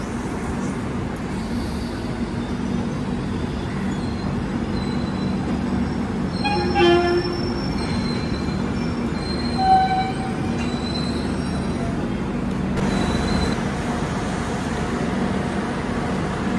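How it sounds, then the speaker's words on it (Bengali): The Shalimar–Hyderabad train rolls into a station platform with a steady low rumble of wheels, and brief metallic squeals rise over it. "ওইদিকে শালিমার হায়দ্রাবাদ ট্রেনটা ঢুকেছে"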